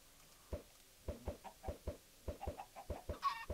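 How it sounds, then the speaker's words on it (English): Chickens in a survival video game give a run of short clucks, a steady series of soft, close calls spaced a fraction of a second apart, followed by a brief higher squawk. "Oh, chicken."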